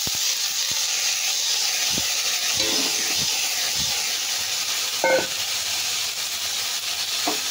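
Cut potatoes dropped into hot oil with fried whole cumin seeds give a steady, loud sizzling hiss throughout, with a few faint clinks and stirring knocks over it.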